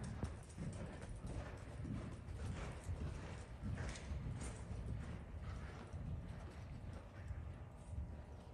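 Horse trotting around a riding arena during a short stirrup lesson, faint rhythmic hoof clip-clop with soft creaks of tack, continuous and distant-sounding throughout.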